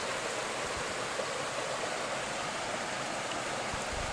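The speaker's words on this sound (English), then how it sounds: "So all you can hear is the water running" Steady running water from a clear forest stream with a small pool, a continuous broadband rush held at even loudness throughout with no voices.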